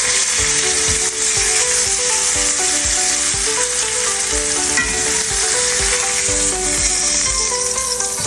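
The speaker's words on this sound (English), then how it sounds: "Now she's browning beautifully." A T-bone steak sears in butter in a cast iron skillet, a loud, steady close-up sizzle and spatter with rhythmic scraping and stirring underneath.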